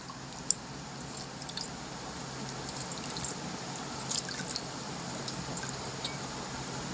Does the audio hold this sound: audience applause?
no